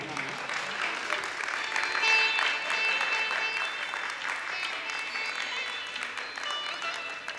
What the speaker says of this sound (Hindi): और जोरदार तालियां बजाइए तनिष्क शुक्ला के लिए।